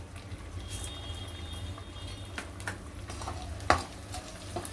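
Edible gum (dink) fries and puffs in a pan for methi dink ladoo, a steady low sizzle and gentle bubbling with occasional stirring scrapes and one sharper clatter near the end, close and moderately loud.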